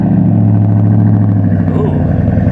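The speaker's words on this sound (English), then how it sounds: "Let's try the remote start." A Ford Raptor truck engine running right after a cold remote start, a loud steady idle with a rough, throbbing low rumble heard close up.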